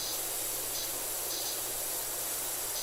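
A pressure washer sprays continuously in the video game PowerWash Simulator, a loud steady broadband hiss with slight rhythmic pulsing and no pauses.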